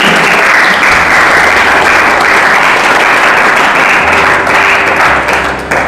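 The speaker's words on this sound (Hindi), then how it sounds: "ताली बजा रहे हो तो पूरा बजाइए।" A church congregation claps continuously and loudly, a dense wash of hands that holds steady for several seconds with no clear speech over it.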